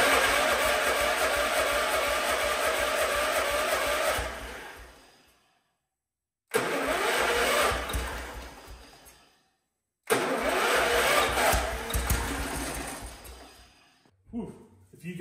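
An old tractor engine cranks and sputters in three long bursts separated by short silences, loud and close, with an uneven mechanical churn as it tries to catch.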